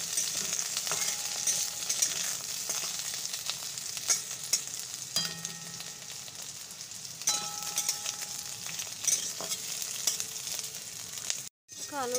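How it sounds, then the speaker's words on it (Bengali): Potatoes and green chillies frying in a pan, with a continuous crackling sizzle and intermittent scraping as the mixture is stirred, a brief dropout near the end. "এবার এর মধ্যে দিয়ে দিচ্ছি হচ্ছে লঙ্কাগুলো দিয়ে ভালো করে ভেজে নেব"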